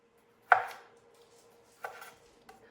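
Knife chopping ingredients for Cajun red beans and rice with andouille sausage on a board, three distinct sharp cuts spaced apart, the first loudest, in a quiet kitchen.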